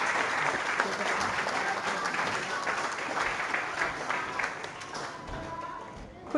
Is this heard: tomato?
no